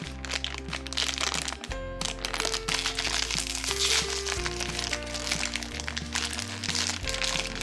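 Plastic wrapping of a light-up Cicibici toy surprise package being torn open and handled: repeated close crinkling, crackling and crunching over a quiet background of steady electronic tones, with no talking.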